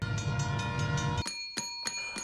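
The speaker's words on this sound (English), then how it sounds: "That freight train hardly ever comes through here." A freight train goes by up close, its steady rumble and horn tones ending abruptly, followed by a few sharp, spaced bell-like or horn blasts ringing out alone.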